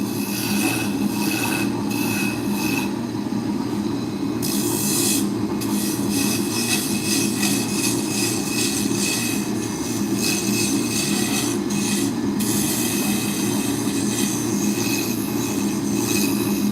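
A lathe roughs in a wooden drop spindle, giving a continuous, steady rasping and whirring close up, with the cutting tool's scrape flaring brightly in brief stretches and no voice over it.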